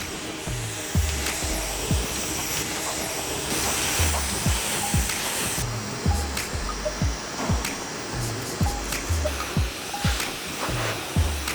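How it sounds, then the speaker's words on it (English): Continuous airy whoosh of a hair dryer blowing close up, with rhythmic low thumps and rustling as it is moved through hair. "dampening the roots with water and then blow drying it in an upwards direction"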